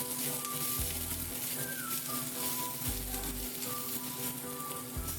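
Potatoes, sweet potatoes and drumsticks fry together in a pan with a steady hiss and sizzle, punctuated by a few low thumps of stirring.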